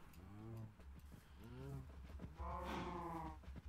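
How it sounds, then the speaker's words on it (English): Cows mooing in the Minecraft video game, three long drawn-out moos in succession, loud and close, with the last one higher and brighter, and no talking over them. "let's go feed the cows and we'll go feed the sheep as well"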